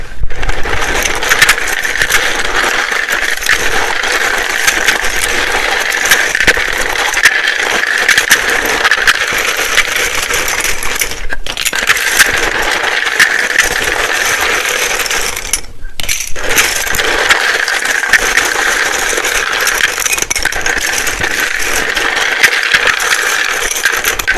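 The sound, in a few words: shuffling a deck of tarot cards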